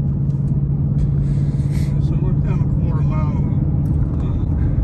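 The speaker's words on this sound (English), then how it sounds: "Feel the way it hit second and boom, transmission shifts." A 2021 Ford Mustang Mach 1 with a naturally aspirated 5-liter engine, heard from inside the car as it accelerates hard: a loud, steady low engine drone runs throughout, with a voice talking over it.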